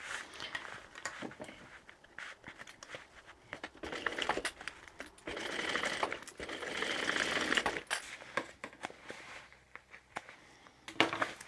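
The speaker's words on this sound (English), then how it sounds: "just sew along the bottom at the allotted amount" A home sewing machine stitching the bottom seam of a tote bag lining, a faint, uneven run of rapid mechanical stitching bursts with short pauses and small handling clatters between.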